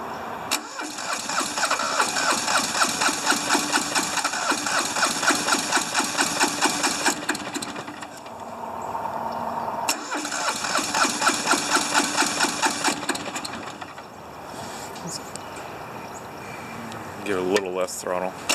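An old, smoky diesel engine that had been seized cranks and catches from cold, then runs with a loud, rapid, uneven clatter. It stops and restarts, idling roughly up close, with brief talk near the end.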